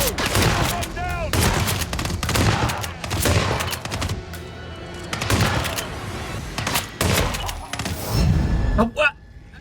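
Gunfire rattles through a firefight in the Hitman World of Assassination video game, with repeated bursts of sharp shots and thuds across the scene as someone talks over parts of it.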